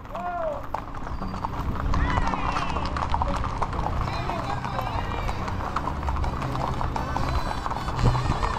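Horse hooves clip-clop in a quick, steady rhythm over a noisy background at a street horse-riding gathering in Yauco, Puerto Rico, with people talking and calling out throughout.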